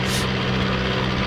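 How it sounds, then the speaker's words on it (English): Propeller engine of a De Havilland Tiger Moth biplane in Flight Simulator X, a loud steady drone with a constant low hum throughout a short stretch. "pull the prop to start"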